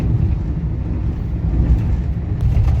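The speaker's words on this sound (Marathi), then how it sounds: "आता गाडीचा आवाज चालू" A car drives along a concrete stretch of the Mumbai–Goa highway between Savarde and Lanja, giving a steady low rolling rumble of tyres and engine from inside the vehicle.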